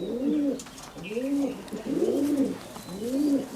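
Madrasi Kalanka pigeons, two-time champion birds from Rajshahi, give four rhythmic, throaty coos in close succession, near and fairly loud.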